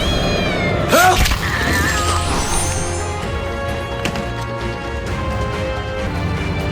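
A cat lets out a loud, rising meow early on, over a dense, noisy background with rumbling and scattered clatter.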